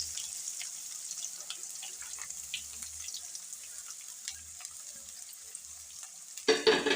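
Onions and curry leaves frying in oil for puliyogare, a steady soft sizzle with occasional stirring scrapes throughout, ending in a louder clatter of the pan near the close.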